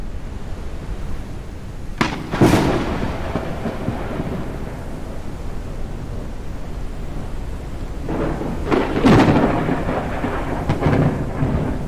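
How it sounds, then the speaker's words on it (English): A thunderstorm in the Forever Skies game: steady rain hiss throughout, with a loud rolling thunderclap about two seconds in and a second, longer rumble building near the end. "I'll come back when the storm is over, but I don't think it's going to last too much longer."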